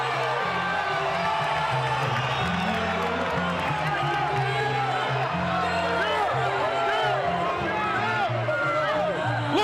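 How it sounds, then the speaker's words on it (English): A boxing crowd at the De La Hoya vs Mayweather fight roars continuously, with loud cheering, whoops and shouts rising over the constant din of the arena. "The crowd is going bonkers."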